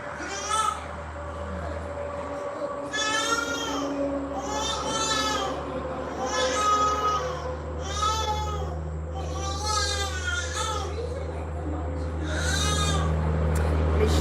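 Goats bleat from a TV show playing in a room. The bleats come in repeated wavering cries, several in a row with short gaps between them, over a low steady hum and some background voices.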